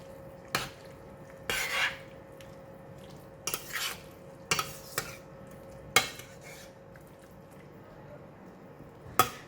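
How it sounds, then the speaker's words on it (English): Stirring tofu crab ball soup with spring onion, cilantro and fried shallots in a pot, heard as several separate soft clinks and scrapes spaced a second or so apart in a quiet kitchen. "half of the fried shallots. Just give it a stir."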